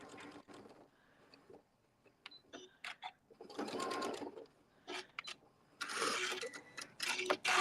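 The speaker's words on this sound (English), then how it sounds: "So you're going to have to get that laid back on a piece of paper so that you can then do the back stitching" A sewing machine back stitching a practice panel bag, running in short close bursts of rapid mechanical stitching separated by brief pauses.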